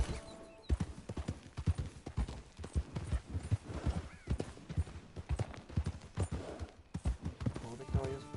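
Horse hooves clip-clop in a steady, rapid rhythm in the video game Red Dead Redemption Online, close and fairly loud over a continuous game soundscape, with voices faintly present.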